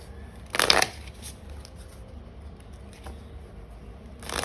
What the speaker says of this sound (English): let me pull extra cards to see.